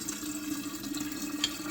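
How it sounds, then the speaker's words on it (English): Fresh, clean water pours steadily into a tea vessel for brewing, a short continuous trickling splash with one brighter drip-like plink near the end. "And then we'll add some fresh, clean water."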